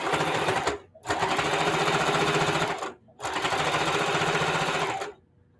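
A sewing machine stitches in the ditch on a scrappy quilted table runner, loud close whirring in three bursts separated by brief pauses, the last one stopping abruptly.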